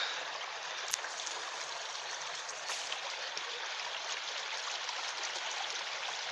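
A small stream of water trickles and flows over ground on a hillside in Poland, a steady soft rushing hiss with a few faint splashes, no talk present.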